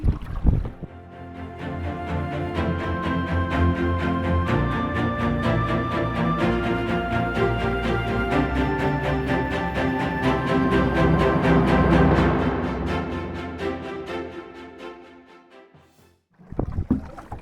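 Canoe paddling on windy Hullvann Lake in autumn, with strokes and water movement under a steady wash of wind noise that swells and fades, then briefly quiets near the end before picking up again.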